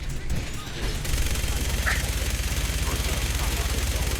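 Rapid gunfire from the video game Fallout 4 rattles on in a dense, steady stream after the first second, loud and continuous, with a brief burst of something sharper midway.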